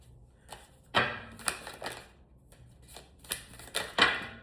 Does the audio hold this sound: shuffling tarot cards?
yes